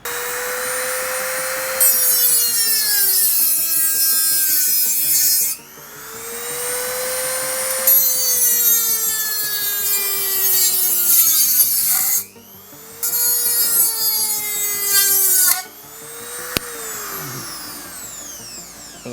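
An INGCO mini rotary grinder cuts through material in several separate passes, each a loud, high, whining buzz whose pitch sags under load, with short quiet gaps between them.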